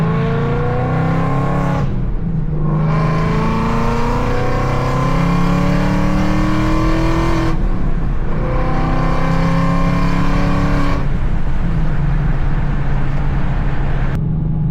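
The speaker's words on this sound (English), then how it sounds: "Downshifting, getting ready to do a pull is fun" 2024+ Ford Mustang accelerating hard through the gears, engine pitch climbing steadily then dropping at each shift, three clear upshifts in a loud, close, continuous run.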